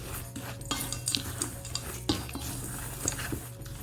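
Oatmeal cookie dry ingredients being mixed with semi-sweet chocolate chips in a bowl, a steady run of light scraping and ticking utensil strokes, close and fairly quiet.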